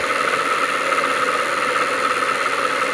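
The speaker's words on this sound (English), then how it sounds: "The motor is definitely a lot more balanced. Doesn't shake at all." A rebuilt motor generator runs steadily with a smooth, even hum and faint whir, close and constant with no talking.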